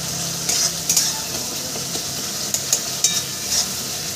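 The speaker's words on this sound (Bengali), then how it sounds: "প্রায় আমার মশলা কষানো হয়ে গেছে, আর 2 মিনিট কষালেই আমার হয়ে যাবে" Spice paste with mustard and poppy seed sautéing in oil for chapila fish curry, a continuous close sizzle punctuated by repeated spatula scrapes against the pan, no speech.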